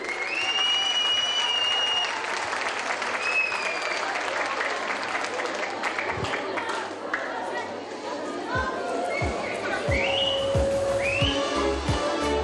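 Audience at a children's singing competition claps loudly and continuously, with whistles and crowd chatter mixed in and music starting underneath.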